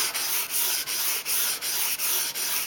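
A kitchen knife is stroked across sandpaper in a fast, even rhythm of rasping, scratchy sanding passes, about three per second, close and steady with no talking.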